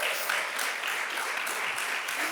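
A congregation claps at a church service, a dense even burst of applause heard at moderate distance and fairly soft throughout.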